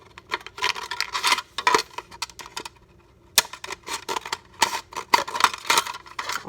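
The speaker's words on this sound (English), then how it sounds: "so what you do is you just take your cup and cut strips" Scissors cutting a plastic cup into strips: close, crisp snips and crinkling plastic in irregular bursts with short pauses between cuts.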